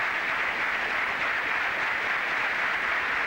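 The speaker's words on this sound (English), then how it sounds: "But I think both players getting the ovations now" Tennis crowd at the 1991 Swedish Open applauding both players, a steady dense wash of clapping held at even loudness throughout, with no talk over it.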